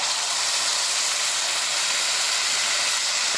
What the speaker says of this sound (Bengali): এবার দিয়ে দিচ্ছি বাটা মশলা